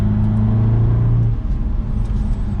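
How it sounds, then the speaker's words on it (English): A 2022 BMW 230i coupe drives on mountain roads, its engine droning with a sustained tone that drops off midway into a lower rumble of road and tire noise. "getting this 2022 BMW 230i out on some mountain roads to really test its performance"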